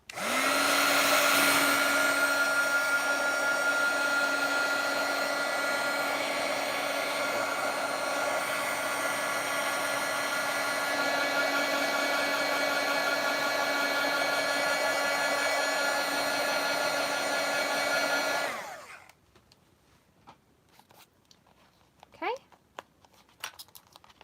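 A heat embossing tool blows with a loud, steady whooshing motor hum and a high whine for about eighteen seconds, then switches off, leaving faint handling sounds and brief talking.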